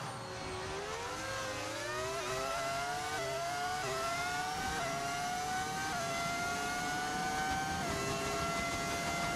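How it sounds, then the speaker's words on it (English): V10 Formula 1 car engine from the F1 25 video game screaming at high revs, pitch climbing through repeated upshifts, with steady loud engine tone throughout and no talk. "Why do you have the V10 sound on, man? It sounds horrible."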